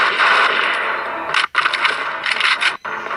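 Rapid bursts of machine gun fire ring out in a war video game, loud dense rattling volleys broken by two brief pauses.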